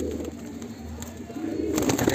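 Soft, low Madrasi pigeon cooing amid a murmuring background, brief and fairly close.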